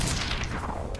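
Gunfire in the shooter game Quantum Break, a short muffled burst of shot impacts at moderate level, no talking.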